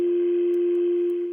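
A steady telephone dial tone hums loudly and continuously, a pure sustained tone that fades a little at the very end.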